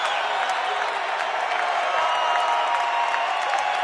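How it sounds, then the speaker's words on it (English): A basketball arena crowd at the Premier Center during a Summit League semifinal roars in a steady, dense wash of cheering and applause, loud and sustained without breaks. "The crowd's getting loud now here in the Premier Center"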